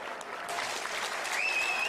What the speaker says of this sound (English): let's get a nice round of applause out here for both of these fighters